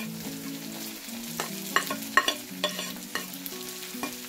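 Red onions and tomatoes frying in a pan sizzle close up, broken by a few sharp clinks and scrapes as the tomatoes go in and get stirred, with no voices.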